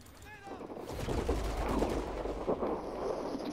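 Gunfire from a marksman rifle in the Modern Warfare III video game booms in a dense, rumbling stretch of shots and explosions, loud and continuous, with no clear gaps between them.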